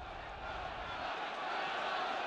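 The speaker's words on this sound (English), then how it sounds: "A great roar from the home crowd." A home rugby crowd at Newlands in Cape Town roars during a 1974 South Africa versus British and Irish Lions test, a broad, steady wash of distant cheering that holds at an even level throughout.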